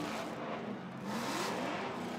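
S14 drift car with BC Racing suspension on Nexen tires, engine idling and burbling steadily nearby as it rolls up to the start line at a Formula Drift Pro knockout qualifying round, a continuous low rumble with no speech.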